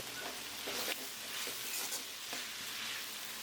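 Beef curry masala frying and being stirred in a pan, a steady close sizzle with soft scraping stirs recurring every half second or so, no voices.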